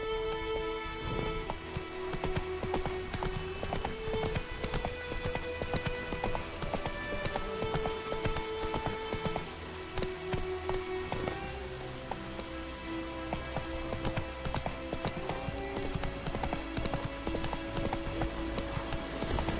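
A horse gallops in Witcher 3 (next-gen update, PS5), its hooves pounding in a steady, fast clip-clop rhythm for a sustained stretch, with rain pattering and soft game music underneath.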